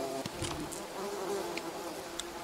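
Bees buzz in the survival video game Green Hell, a steady, dense droning hum that carries on without a break, with faint higher chirps over it.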